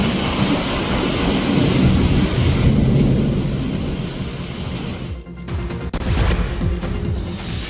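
Heavy rain pours steadily in Hubballi with rolling thunder, loud and continuous, easing slightly before a fresh crash and downpour near the end.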